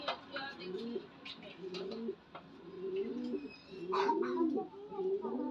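Indian fantail pigeons coo repeatedly nearby, soft throaty rolling calls overlapping one another, with a few faint chirps mixed in.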